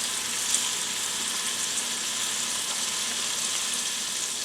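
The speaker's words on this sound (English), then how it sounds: "we are going to cook this for about 5 minutes till the sausage is browned on all sides" Sliced andouille sausage browning in a pan, giving a steady, even sizzle that holds at one level throughout with no talk.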